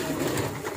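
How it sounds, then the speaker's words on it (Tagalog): Pigeons in a pigeon loft holding stock birds and flyers, a dense, close murmur of soft cooing and rustling that fills the brief moment without pause. "Mas marami palang ibon dito."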